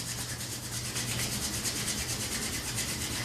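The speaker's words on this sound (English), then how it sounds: "Rub your hands together like you're starting a fire." Palms rubbing briskly together during a yoga session, a steady, continuous dry friction hiss with no pauses, close and fairly quiet throughout.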